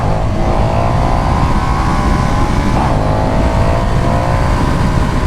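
A 2020 KTM 1290 Super Duke R in track mode roars loud and close, its engine note holding steady and slowly rising, with no talking.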